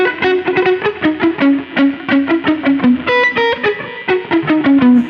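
An electric guitar with heavy distortion plays a fast metal riff, punchy chugging notes and brief chords in a rapid, loud rhythmic pattern with no voices.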